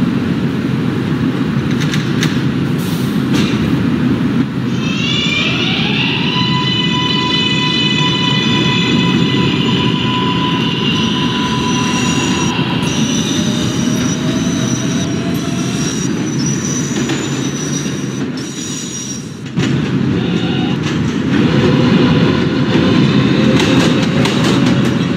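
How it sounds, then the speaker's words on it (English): A New York subway Q Express train runs steadily near the listener, its rumbling wheels clattering on the rails, with long sustained squeals and tonal whines rising and falling, and no talk. "This is 39th Street, Stock Exchange bound Q Express train."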